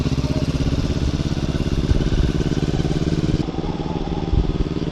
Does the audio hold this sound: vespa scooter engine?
yes